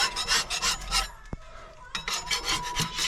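Dried foam is scraped off a board in repeated rasping strokes close up, with a short pause and a sharp knock in the middle before the scraping starts again.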